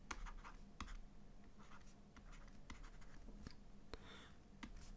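Pen strokes writing out a physics equation, faint close scratching and tapping in short bursts against a quiet background hiss.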